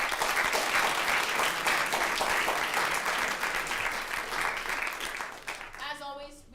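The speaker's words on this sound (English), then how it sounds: "So let's give him a round of applause." Sustained applause from a student government meeting audience, dense steady clapping filling the room for about five seconds before tapering off as a voice begins.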